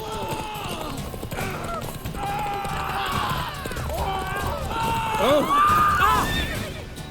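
Horse neighing and whinnying amid galloping hoofbeats during a chase in The Witcher 3, loud and continuous under game music and effects, with voices talking over it.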